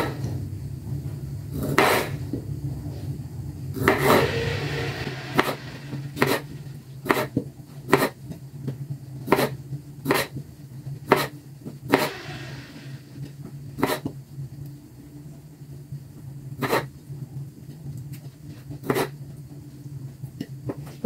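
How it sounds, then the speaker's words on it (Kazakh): A knife chops tomatoes on a cutting board in a kitchen, with about a dozen sharp, evenly spaced knocks. Between them come quieter handling sounds over a low background hum. "біз помидорларды дайындап қоямыз"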